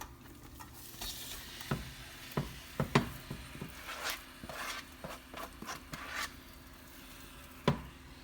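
Ground beef dropped into a hot pan with softened onions, a light sizzle under scattered stirring scrapes and taps, with a sharp clatter near the end, and no talk.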